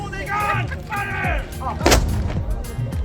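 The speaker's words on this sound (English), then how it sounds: "now a place where visitors can watch the cannons being fired at noon daily" The traditional noon cannon fires at the Saluting Battery in Malta, a single sharp heavy boom close by with a rolling echo, heard amid crowd noise and people talking.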